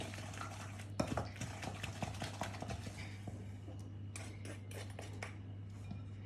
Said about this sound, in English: I'm going to pop in 3 eggs. Beat those in.